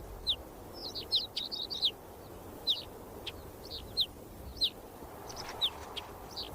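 Birds call at a Gobi desert oasis in Mongolia with short, sharp chirps repeating every second or so, mid-distance over a soft, steady background hiss.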